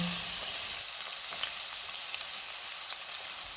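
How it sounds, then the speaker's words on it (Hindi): A chopped onion dropped into two tablespoons of hot oil in a pan, with a steady close sizzle and hiss of frying and a few faint stirring clicks, no voices. "ऑयल गर्म हो गया, इसमें एक प्याज डालेंगे"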